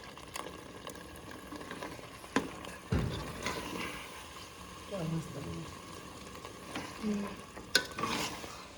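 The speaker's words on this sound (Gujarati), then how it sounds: "મમ્મી હલાવે છે" Kathiyawadi olo, a smoky eggplant dish, being stirred while it fries in a pot, with a low sizzle and intermittent scraping and clinking of the spoon under nearby talk.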